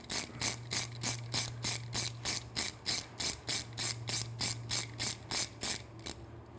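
Rapid, even clicking of a T30 Torx ratchet tightening a bolt on Triumph motorcycle competition headers, about two dozen close, crisp ratchet strokes in a steady rhythm.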